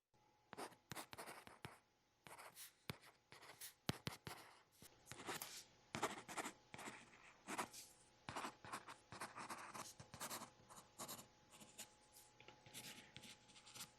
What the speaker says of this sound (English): the sound of this device is incredible. It's the most accurate pencil sounding device out of any e-ink tablet I've ever tried.